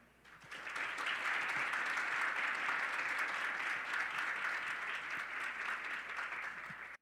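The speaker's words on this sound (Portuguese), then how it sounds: "recebamos com uma calorosa salva de palmas a Tenente Coronel BM Camila" Audience at a lecture series breaks into warm applause welcoming a fire brigade lieutenant colonel to the stage, a dense, even wash of clapping that rises quickly and holds steady throughout.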